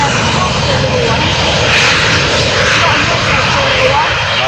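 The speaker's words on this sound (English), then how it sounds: "Make a lot of noise for little planes." Small jet engine of a Bombardier Challenger 350 business jet at an airport, a loud steady roar that stays constant throughout, with voices talking over it.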